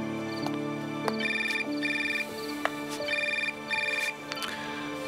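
A mobile phone rings with a repeating electronic melody, its bright tonal bursts in a regular rhythm, fairly loud and close, with no talking over it.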